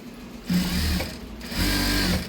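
A sewing machine stitches a pencil-cut fant seam, running in two close bursts of steady motor whirr with a brief pause between, loud and near.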